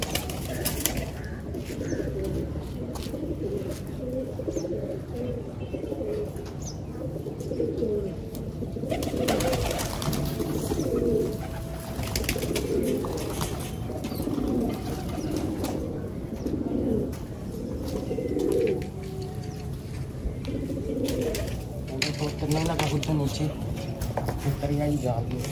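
Pigeons coo steadily on a rooftop, a low rhythmic throaty warble repeating throughout, with occasional wing flaps and someone speaking over it.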